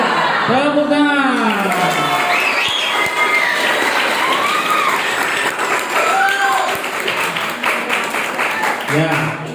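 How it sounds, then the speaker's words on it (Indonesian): Audience applause at a large public-speaking assembly of Islamic boarding school students in Purbalingga. The clapping is loud and steady for almost ten seconds, with voices calling out over it. "Tepuk tangan."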